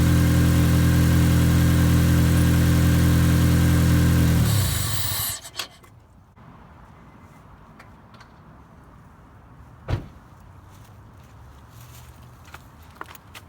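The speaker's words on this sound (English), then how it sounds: "It's idling, but I'm not hearing any revs. Seems like we're just idling." An Acura RSX Type S with a K20A2 four-cylinder engine idles loudly and steadily up close, then shuts off partway through, leaving quiet room noise with a few faint knocks and footsteps.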